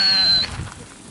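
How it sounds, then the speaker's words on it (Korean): A sheep or goat in a herd in the Gobi desert of Mongolia gives a short bleat against outdoor background noise. "이곳에 있는 양과 염소들은 사람들에 대한 경계심이 심하지 않습니다"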